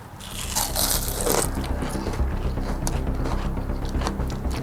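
Someone bites into a crunchy appetizer, producing loud close crunching and crushing that continues steadily for several seconds.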